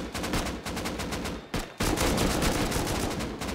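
Rapid automatic gunfire in an online shooter game on an oil rig map, with long dense bursts of shots, one brief pause, then sustained loud firing.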